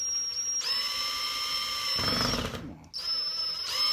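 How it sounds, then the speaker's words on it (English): A small drill bit whines into a foam pool noodle in two loud, steady high-pitched bursts, broken by a short rougher grinding stretch and a brief stop. "that little bitty drill bit I'm using"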